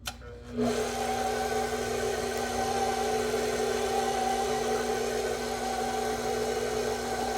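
An electric mixer whirs at a steady, even drone as flour is combined into butter pecan coconut pound cake batter, running continuously and close after starting up, with no talking.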